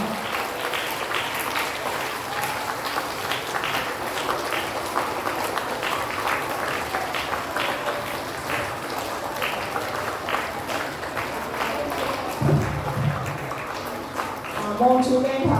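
Sustained applause from an audience at a lower-grade school year-end prize-giving ceremony, steady clapping throughout with a brief voice and rustle near the end.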